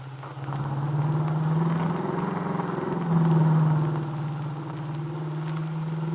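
A car cruising along a highway toward Chicago, staged as a radio drama effect: a steady, low engine hum and road rumble, moderately loud and continuous, swelling slightly midway, with no voices over it.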